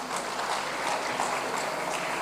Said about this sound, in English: I think we should give our First Lady another round of applause.